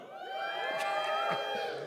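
A small group of people cheering and whooping loudly on cue, a brief, deliberately exaggerated burst of crowd noise with scattered shouts, held steady for a couple of seconds.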